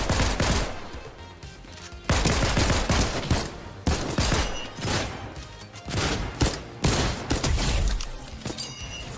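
Infantry rifle fire in Fortnite crackles in rapid bursts, loud and close, with short pauses between volleys and no talk over it.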